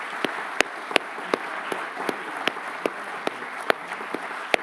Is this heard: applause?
yes